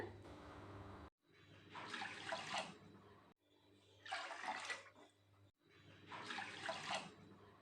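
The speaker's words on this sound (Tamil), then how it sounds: "அரிசி எடுத்து அதே கப்பில் 4 கப்பு தண்ணி ஊற்றிக்கலாங்க" Water poured in repeated bursts onto washed raw rice and moong dal in a cup, three loud splashing pours separated by short pauses, with no talking.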